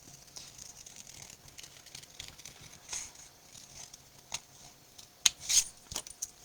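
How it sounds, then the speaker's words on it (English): Scissors snip at a wreath bow, giving quiet, irregular cuts and crinkly rustles close by, with a few sharper clicks near the end. "I'm trimming off the bow on the top."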